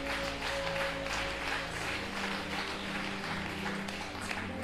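A church congregation applauds with a continuous, even wash of clapping. A low steady musical hum sustains underneath throughout.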